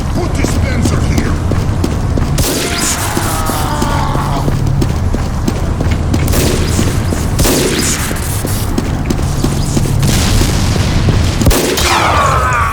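Repeated gunfire bursts from a sniper in a Team Fortress-style online shooter, loud booming shots every few seconds over constant game clatter and background noise.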